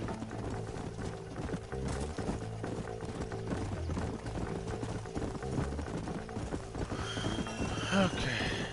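Horse hooves clip-clop steadily through a Red Dead Redemption game scene, with a short whinny near the end over a busy bed of game music and ambience, and some speech mixed in.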